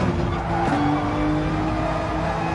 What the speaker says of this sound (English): we'll go for the braking at the start of the curb